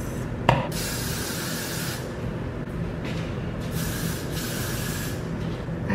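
A long continuous hiss of aerosol spray, close and steady, with a faint click near the start and slight swells in intensity.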